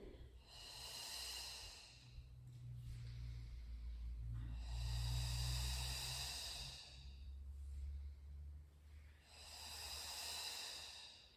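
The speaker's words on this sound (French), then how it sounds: "j'inspire et j'expire" A person breathes slowly and audibly through a Pilates exercise, three long airy exhalations with softer inhalations between them, close and clear over a low rumbling background.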